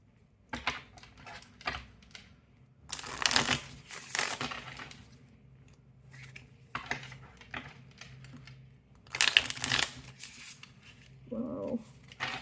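A Serenity Tarot card deck is shuffled by hand, with several bursts of close, crisp riffling and rustling separated by quieter gaps and soft handling noises.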